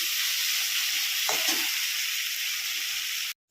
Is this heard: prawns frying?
yes